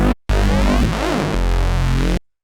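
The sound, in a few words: Serum neuro bass with vinyl distortion, without first chain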